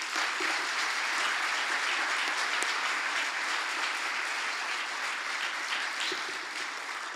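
Sustained, steady applause from an audience honoring three Hall of Fame inductees at a 2018 induction ceremony, dense and even throughout with no talk over it.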